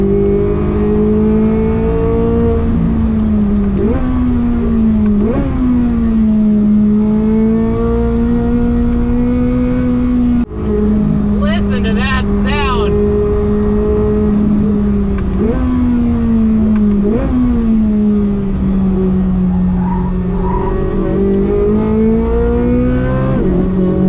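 A 2023 Chevrolet Corvette Z06 engine drones loudly at steady high revs on a race track, pitch rising and falling as it shifts gears, with a brief sharp squeal of tires.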